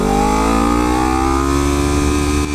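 A Suzuki GSX-R 600 sport bike pulls away, its engine note rising steadily in pitch as it accelerates, loud and close, then easing off sharply near the end.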